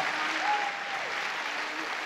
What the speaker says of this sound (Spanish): Dale fuerte ese aplauso a Dios.